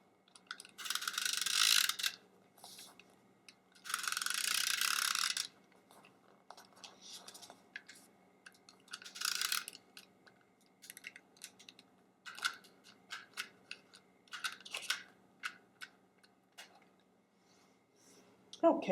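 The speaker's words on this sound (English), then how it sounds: "in the middle of putting on my Tombow permanent adhesive, I ran out" A Tombow permanent adhesive tape runner is rolled across a greeting card background in several short, raspy ratcheting bursts, close up, with quieter handling sounds of paper and crafting between them.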